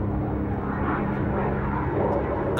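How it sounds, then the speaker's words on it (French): Aircraft from an aviation school formation flight drone steadily overhead, a continuous loud engine roar with a broad rumbling hum that holds level for the whole stretch, no voices over it. "Un avion de la formation semble en difficulté."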